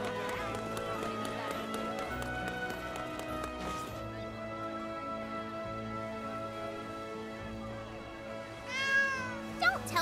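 A cat meows among game sounds while exploring the back streets of Seed Hollow in Granblue Fantasy: Relink, with a steady music bed and a few short meows near the end.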